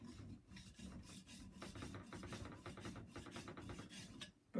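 A blade rubbed back and forth on the fine side of a new diamond sharpening stone, producing a quiet, dry rasping in steady repeated strokes, close up with no talking.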